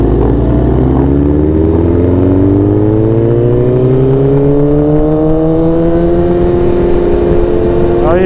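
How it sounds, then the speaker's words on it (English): Two stock sport superbikes, among them a Yamaha R1, Suzuki GSX-R1000R, Kawasaki ZX-10R, BMW S1000RR and R1M, pull away together, engines climbing steadily through the gears in a loud, continuous rising whine that stays close throughout. "So we got Mike's and Hitman going out on two stock bikes"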